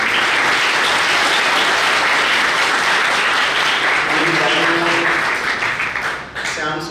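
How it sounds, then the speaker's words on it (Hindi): Loud, dense applause from a crowd honouring a saint, Maharaj Ramanpuri, at an event in Kaithal, Haryana, sustained for about six seconds before fading as a voice begins speaking over the tail. "एक बार सभी लोग जोरदार तालियों से महाराज जी रमनपुरी जी महाराज"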